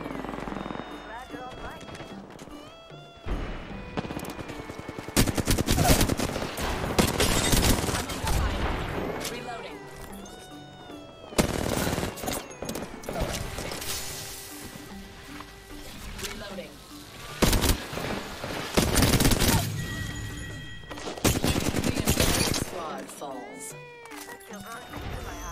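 Gunfire in the battle-royale game Apex Legends, with repeated bursts of shots and rapid volleys that come and go over a busy mix of game sounds, with talk between the bursts.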